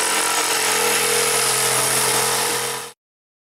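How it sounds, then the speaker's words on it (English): A power tool cuts out a wooden base plate meant for mounting capacitors in a voltage multiplier build. A steady, loud, close whine holds for about three seconds, then stops abruptly. "For that I also cut out a wooden base plate"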